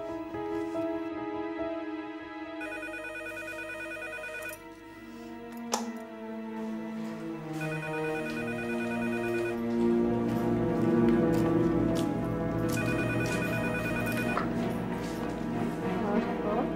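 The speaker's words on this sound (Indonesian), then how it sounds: "Ada telepon tuh, angkat Gi." A telephone rings in short repeated bursts of a tonal, electronic ringtone, returning three times over a continuous background of music and room noise.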